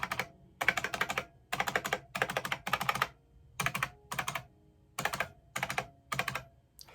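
Keys pressed one after another on a 32-year-old computer keyboard whose top row of keys does not work, a dozen crisp clacking bursts in an even, steady rhythm, close and alone.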